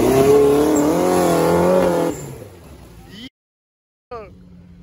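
An off-road UAZ or Niva on a rough forest course, its engine revving hard and climbing in pitch, then dropping off, cutting out briefly and returning with a short rev.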